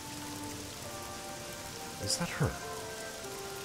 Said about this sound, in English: Look at this rain.